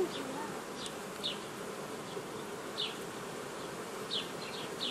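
Honeybees buzzing at an open hive frame with hatching brood: a dense, steady hum of many bees close by, with individual bees droning past now and then.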